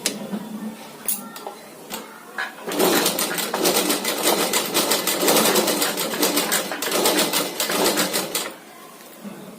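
A sewing machine runs in bursts as it stitches two pieces of cloth together, a few short starts giving way to a long steady whirring run of rapid needle clatter, close and fairly loud, with no talking.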